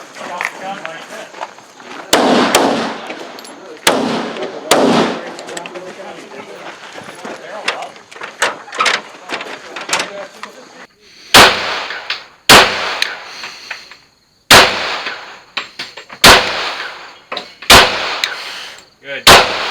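Shotgun blasts ring out in a fast series of sharp, loud reports during a 2-Gun Luau competition run, heaviest and most rapid toward the end, with people talking between and around the shots.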